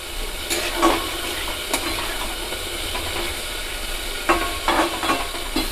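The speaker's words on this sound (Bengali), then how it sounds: "আমি মশলাটা কিন্তু সব সময় ভালোভাবে কষানোর জন্য চেষ্টা করি" Onion-tomato masala for a Bengali fish curry fries in a pan, a soft continuous sizzle broken by several scraping stirs of a spoon, close and moderately quiet, with no voices.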